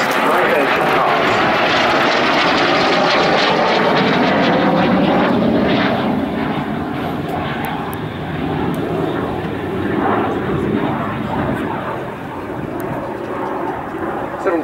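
An Aero L-39C Albatros jet trainer flies a display at an airshow, its loud roaring engine sweeping past and fading slowly, with a commentator's voice heard over it.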